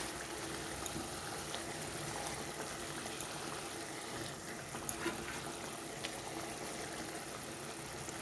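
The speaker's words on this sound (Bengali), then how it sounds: "দেখো বন্ধুরা, গ্রেভিটা বেশ ফুটে উঠেছে।" Katla fish korma gravy bubbling at a rolling boil in a pan, a steady close hiss and soft popping bubbles that carry on evenly throughout without talk.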